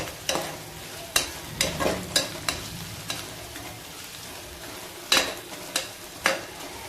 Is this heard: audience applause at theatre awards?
no